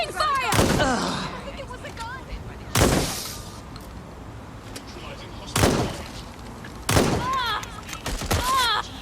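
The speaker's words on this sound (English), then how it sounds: "Gunfire!" Gunfire erupts in Watch Dogs Legion on PS5, four sharp, loud bursts of shots spaced a few seconds apart. Police radio chatter and shouted voices fill the gaps between the volleys.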